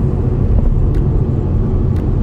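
An Audi A5 with four-wheel drive idling or running, a steady low rumble of the engine that holds constant and fairly loud throughout, with no talk over it.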